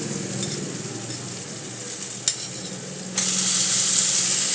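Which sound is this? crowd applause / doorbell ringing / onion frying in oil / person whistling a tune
onion frying in oil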